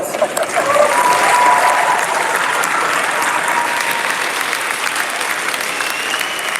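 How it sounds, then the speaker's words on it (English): A standing audience at the closing ceremony of the LIMUN 2026 Model United Nations conference breaks into a big, dense round of applause, loud and sustained throughout with no break. "Let's have a big round of applause."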